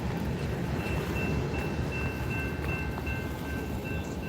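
Distant train rolling past, a steady broad rumble with faint squealing tones from the rails, heard outdoors at Solo Point around sunset with light wind and no voices.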